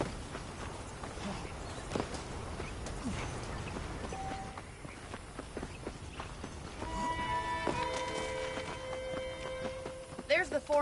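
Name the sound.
horse hooves in video game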